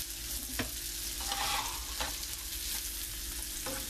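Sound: garlic and onion sautéing in a pan

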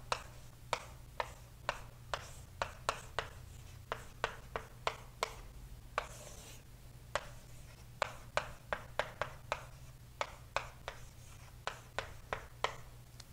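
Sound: writing on a board

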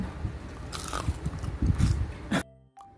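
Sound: biting crunchy deep-fried red sausage

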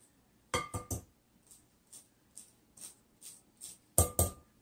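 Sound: spoon pressing and grinding chocolate chips in a bowl

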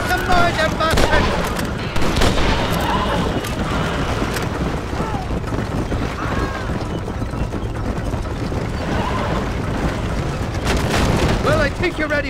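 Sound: gunfire from enemies shooting in Red Dead Redemption video game

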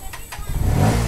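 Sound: Bajaj Pulsar NS160 motorcycle engine starting with full throttle

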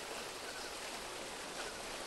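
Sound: waterfall in video game Monkey Island II

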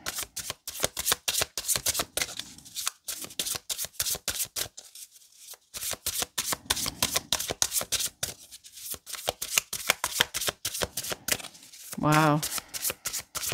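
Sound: shuffling tarot cards

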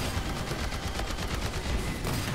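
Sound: shotgun fire in Earth Defense Force 5 video game

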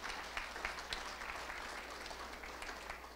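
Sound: audience applause for pitching businesses

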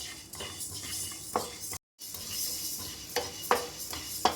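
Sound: spices roasting and being stirred in a pan for sambar powder

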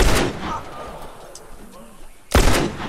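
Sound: gunshots fired in a video game

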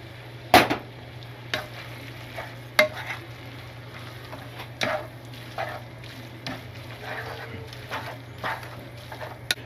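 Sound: stirring carbonara pasta with egg in a pan

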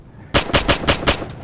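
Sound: gunfire in the video game Operation Flashpoint: Dragon Rising

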